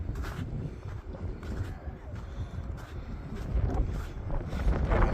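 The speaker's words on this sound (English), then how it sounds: "It is windy" Strong mountain wind in the Swiss Alps near Titlis, buffeting the microphone as a low, rumbling roar that swells and grows louder toward the end, with no speech over it.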